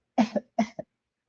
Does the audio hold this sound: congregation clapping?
no